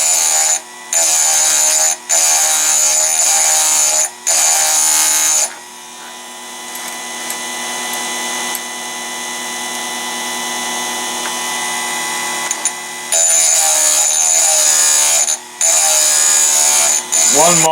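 A chainsaw sharpener grinding a chain tooth, a loud steady buzzing whine broken by several short cutoffs, then a quieter rising hum in the middle before the loud intermittent grinding returns.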